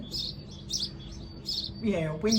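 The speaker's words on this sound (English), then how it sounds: "On my balcony we've got some birds in the nest again, and they're busy feeding their young" Small birds chirp in repeated high bursts from a nest on a balcony, close and clear, with someone talking over the end.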